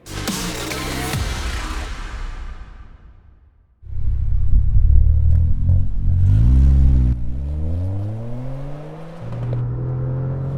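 Toyota GR Yaris engine revving hard on a rolling-road dyno, loud and close: a rising roar that drops away briefly, then climbs through repeated sweeping revs with a steady high-rpm drone toward the end.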